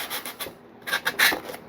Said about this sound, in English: I love these sanding blocks. These are called Gator sanding blocks.